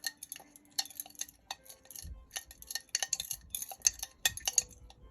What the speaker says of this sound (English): And now I'm going to just give it another stir.